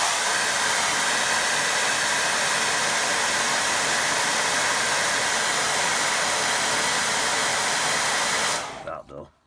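A hair dryer blows a steady, loud rushing whoosh over a watercolour painting for about nine seconds, then switches off and winds down at the end.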